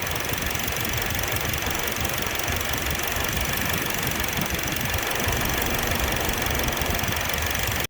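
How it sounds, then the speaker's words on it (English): A 2008-2012 Chevy Malibu engine idles steadily with its cooling fans running, a constant close broadband whir and hum with no breaks and no talking. "Okay, bring the engine back to idle. The fans are coming on at the appropriate speed."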